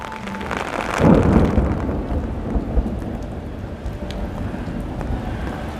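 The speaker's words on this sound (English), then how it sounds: "You can hear the thunder in the background." A thunderstorm at Epcot in Walt Disney World brings a low rumble of thunder near the start, under steady rain pattering on surfaces, with light wind.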